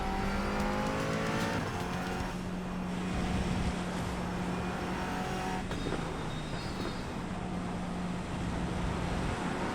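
A race car engine drones steadily in the iRacing sim on a wet, rain-soaked track, a constant close engine note with faint tire hiss and no talk.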